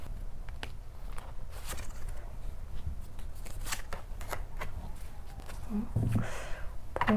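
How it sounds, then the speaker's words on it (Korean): Tarot cards being shuffled before a draw, a soft papery riffling and sliding that runs steadily under a voice talking throughout. "제가 보조 카드를 좀 뽑아볼게요"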